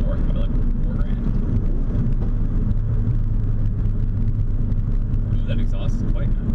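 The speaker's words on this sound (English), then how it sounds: "Ooh, that exhaust is quite nice." A Ford Focus RS hot hatchback accelerating on the road, with a steady deep engine drone and exhaust rumble heard from inside the car, continuous and fairly loud throughout.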